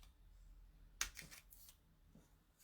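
Scissors snipping around paper cardstock words for a handmade card, a few quiet, close cuts with soft paper rustling in between, faint and alone with no talking.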